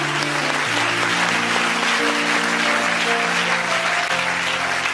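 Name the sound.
congregation applauding the Lord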